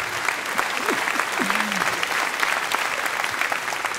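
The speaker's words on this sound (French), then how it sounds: "Je ne vous en voudrais pas pour cet applaudissement tardif" Audience applause at a French stand-up comedy show, dense steady clapping filling the room at close range, with a brief vocal sound over it.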